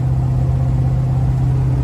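A 1969 Ford Mustang Mach 1 idles with a steady, deep exhaust rumble, loud and close, holding an even drone throughout with no talking over it.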